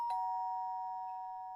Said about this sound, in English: Do you hear the doorbell?